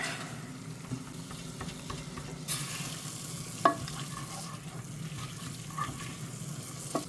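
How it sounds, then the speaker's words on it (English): Turkey soup seasoned with black pepper being stirred in a pot, a soft, steady scraping and swishing with faint sizzling underneath and a few sharper utensil clinks against the pot, close by and fairly quiet throughout. "And of course, we'll add some black pepper in there. Give that a good stir."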